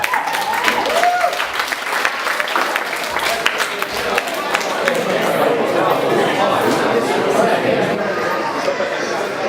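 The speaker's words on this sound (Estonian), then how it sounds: "aplaus!" Sustained applause from an audience at a school Christmas party, a dense, steady clapping that fills the room with chatter mixed in throughout.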